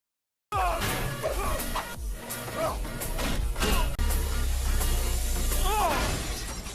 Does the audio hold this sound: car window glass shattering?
yes